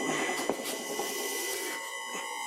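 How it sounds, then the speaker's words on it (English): Wood lathe motor running at 30 Hz after new bearings were fitted, giving a steady, fairly close mechanical whir with a constant high-pitched whine and light rattling throughout. "This is the motor running at 20 Hz, and I can stall it quite easy."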